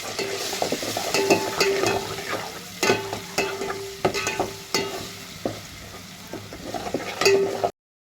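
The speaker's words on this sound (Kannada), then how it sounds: "ಇಲ್ಲೇ ಎಣ್ಣೆ ಬಿಸಿ ಇಟ್ಟೇನಿ ರೀ. ಇದ್ರೊಳಗೂ ಸ್ವಲ್ಪ ಅಲ್ಲ ಬೆಳ್ಳುಳ್ಳಿ ಪೇಸ್ಟ್ ಹಾಕೊಳ್ಳೋ" Garlic paste fries in hot oil, giving a continuous close sizzle broken by repeated scraping stir strokes, with no talking.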